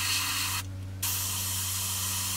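An airbrush sprays paint at very low air pressure from about a centimetre away onto a plastic 1/48 scale P-40N Warhawk model, giving a loud continuous hiss that cuts out briefly for half a second before resuming.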